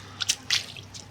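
Rain drips onto a phone outdoors: a few close, sharp wet taps and squishy splats land in quick succession over a faint steady background.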